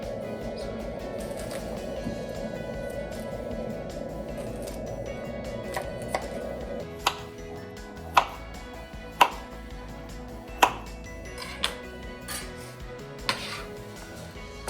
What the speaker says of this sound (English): we're gonna prep the cauliflower and just cut them into florets